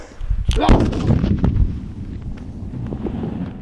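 A sharp, loud bang as a Glock airsoft pistol is blown up, heard from a distance outdoors, followed by a rumbling echo and wind buffeting the microphone.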